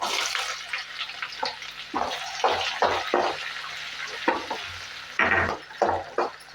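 Onions frying in oil with lentils and cashews, a continuous sizzle broken by a series of loud scraping stirs and rustles at an uneven rhythm, close by.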